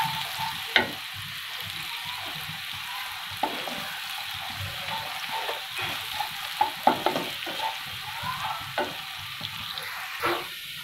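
Finely chopped onions browning in a pan, a continuous bright sizzle with occasional clinks and scrapes of stirring, moderately loud and close, no speech.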